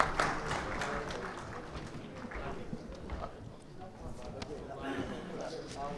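Applause at an annual meeting of a dyes and chemical association welcoming the new cabinet, moderate clapping blended with crowd murmur and voices talking over it.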